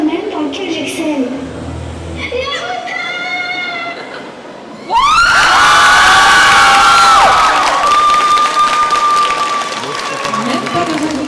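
Audience at a cosplay contest at a manga festival claps and cheers, with scattered shouting at first, then a sudden loud surge of whoops, high excited screams and applause from a large crowd.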